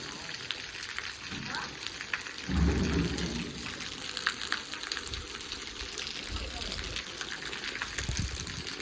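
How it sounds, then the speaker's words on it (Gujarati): Steady rain pouring down outdoors during a downpour, a continuous broadband hiss with heavier gushing swells, close and fairly loud, with faint voices in the background. "હજુ વરસાદ તો ચાલુ જ છે"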